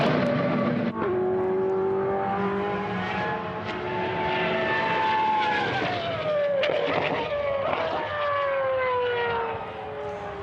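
Loud, high-revving naturally aspirated race car engine screaming past at a time attack event, its pitch sliding down as it moves away, then climbing again with gear changes.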